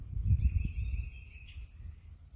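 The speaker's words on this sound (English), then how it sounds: "right now I'm hearing a lot of birds" A thin, high bird whistle rings out twice over low rumbling background noise outdoors, fairly clear but not very close.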